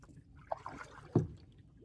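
A pack boat paddled with a J stroke on water, with a soft paddle dip and a brief splash and gurgle, quiet and close.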